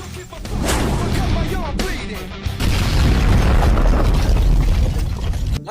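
A grenade explosion in an action short film: a loud, sustained blast with heavy low rumble rolling on for several seconds, swelling again midway, with no voices over it.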